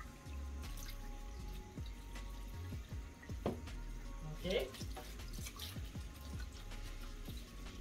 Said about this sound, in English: now I'm using cold water